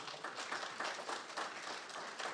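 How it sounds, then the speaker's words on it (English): A crowd applauds steadily, many hands clapping together in a dense, continuous patter that holds at an even level throughout. "a round of applause to all of you people who have made this journey today to attend this"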